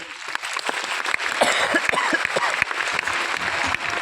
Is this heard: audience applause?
yes